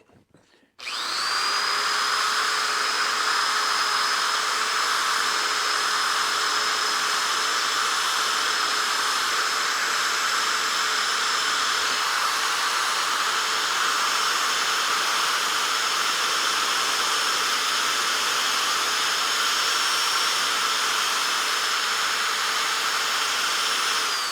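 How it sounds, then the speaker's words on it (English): A wire wheel on a power tool scrubs rust from the nut of a mace, a steady close whirring grind starting abruptly after a brief pause and running without a break for the whole stretch, no voices. "I'll wire wheel the nut a little bit because it's the rustiest part"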